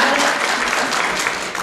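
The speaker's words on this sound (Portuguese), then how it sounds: "uma salva de palmas para" Applause from an audience welcoming a female guest at a samba and human rights panel event, a steady dense patter of clapping filling the room, fairly loud with no voices over it.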